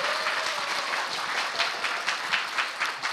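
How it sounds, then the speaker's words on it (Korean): Audience applause at a Korean talk show with an actor guest: dense, steady clapping fills the room, moderately loud, with faint voices beneath. "여러분 박수 부탁드립니다."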